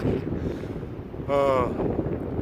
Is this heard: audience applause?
no